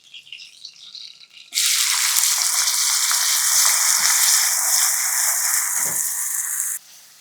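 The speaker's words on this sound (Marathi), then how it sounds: "आणि बदामी रंगावर कांदा छान परतून घेऊया" Chopped onion dropped into hot oil and sautéed until light brown, bursting into a loud, close, steady sizzle that holds for several seconds with a few stirring knocks, then cuts off abruptly.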